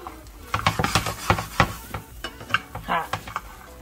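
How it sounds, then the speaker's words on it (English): Food fries in a pan at home, with a steady crackling sizzle and repeated scraping and stirring clatter up close, no talk. "helping me with the frying"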